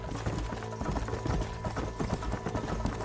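Horse hooves in Red Dead Redemption, a steady rhythmic clip-clop of a galloping horse, loud and close, with continuous thudding beats over low rumbling ambience.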